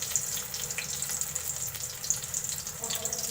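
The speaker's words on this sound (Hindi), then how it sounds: "स्लो मीडियम आग पे मैं इनको शैलो फ्राई करूँगी।" Chicken malai shami kababs shallow frying over a slow-medium flame, a steady close sizzle with soft crackles running throughout, with no voices over it.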